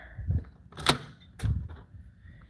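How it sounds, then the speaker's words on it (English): A door at a government records office opens or closes with a couple of thuds and a brief rattle, fairly close and loud, with no talk. "Door."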